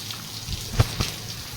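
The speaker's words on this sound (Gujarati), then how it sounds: "જોઈ લો આ વરસાદ ચાલુ છે" Rain falls outside as a soft, even patter, with a couple of louder drops striking a surface close by in a brief moment.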